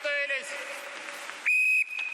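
A sports whistle blown as a signal at a music college, a long shrill trill followed by a sharper steady blast, heard among crowd noise and background chatter.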